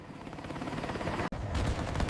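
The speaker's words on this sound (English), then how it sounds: "Suppressed fire covers their movement as snipers and rearguards provide overwatch, neutralizing threats along the ridges." Simulated gunfire rattles in dense bursts over the continuous roar of helicopters during a military evacuation drill, loud and unbroken apart from one instant of silence midway.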